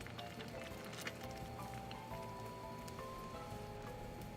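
Red beans simmer in a pan with sugar and water over low heat, giving a faint, steady bubbling patter throughout with soft pops.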